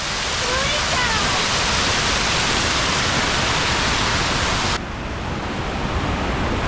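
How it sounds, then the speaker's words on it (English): A Tennessee waterfall roars loud and close in a dense, constant rush of water that fills the whole scene, with a sudden shift in tone partway through. "The main waterfall's over there and it's rushing like crazy."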